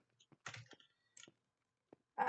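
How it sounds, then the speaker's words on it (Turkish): Scattered computer keyboard keystrokes click in irregular bursts and single taps, close and fairly quiet, with short silences between, during Minecraft SkyWars play. "Arkadaşlar klavye sesinden rahatsız olduysanız kusura bakmayın."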